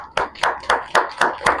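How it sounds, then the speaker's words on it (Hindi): Audience clapping at a Hindi leadership talk, six sharp, evenly spaced bursts of applause in a quick steady rhythm, close and fairly loud with no voices over it. "ताली बजाइए एक बार"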